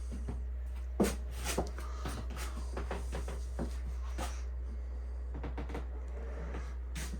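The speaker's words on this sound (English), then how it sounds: "Also got this little sliding door here." A small sliding door inside a 2022 Arctic Wolf 3880SUITE RV slides and clacks several times in short bursts, close up, over a steady low electrical hum.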